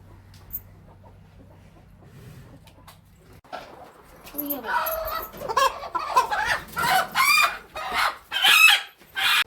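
Hens clucking and squawking in a village yard where eggs have just been broken; after a quiet start, loud, agitated clucks come close by in repeated bursts.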